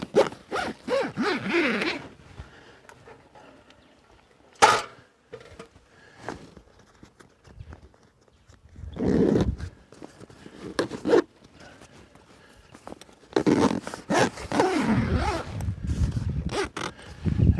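An awning bag for an Outbound Shield 3 Super Peg 180-degree freestanding awning gets zipped shut outdoors: a couple of close, rasping zip pulls with short pauses, set among quiet rustling and handling noises.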